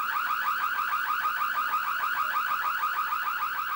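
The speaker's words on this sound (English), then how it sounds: "And on the right is an evacuation alarm that sounds like this." An evacuation alarm inside an orbiter crew module gives a loud, rapidly warbling electronic siren that repeats in quick regular pulses throughout, heard alone with no speech.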